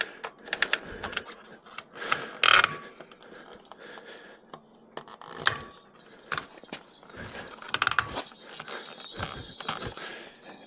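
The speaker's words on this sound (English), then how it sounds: "You take the ratcheting strap, slide it between the spokes and over the wheel," A ratcheting strap is cranked tight over a bike wheel on a NAKTO bike rack, giving a run of sharp, irregular clicks and ratchet snaps, close by, with no voices.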